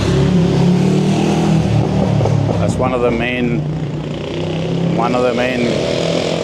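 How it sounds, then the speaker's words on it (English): Motorcycles and small cars such as a Peugeot pass along a street in Martinique, a steady loud engine roar with rising revs, while someone talks over the traffic. "A lot of motorcycles here."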